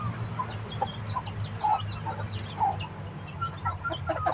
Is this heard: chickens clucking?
yes